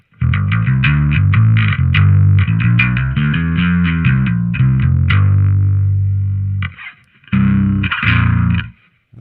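Heavily distorted bass guitar run through a ToneX One and a Sansamp, loud and aggressive with a lot of gain and hiss, playing a busy riff of repeated notes, then a sustained note, a short pause, and a few more hits.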